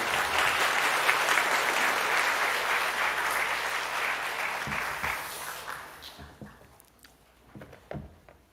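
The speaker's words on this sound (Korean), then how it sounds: "목사님 나오실 때 박수로 환영하겠습니다" A church congregation applauds in welcome as a pastor comes forward at a Korean revival meeting in Singapore, a dense, steady clapping that carries for several seconds before thinning into a few scattered claps and fading.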